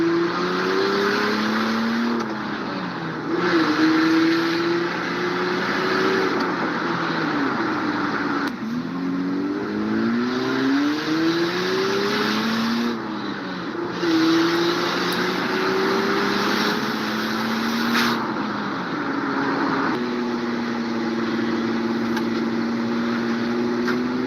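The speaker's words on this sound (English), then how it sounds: "here's a little sneak peek of the turbo sleeper minivan" A turbocharged sleeper minivan drives hard through repeated gear changes, its engine rising in pitch under acceleration, dropping at each shift, then climbing again, heard loud and steady from inside with no talking.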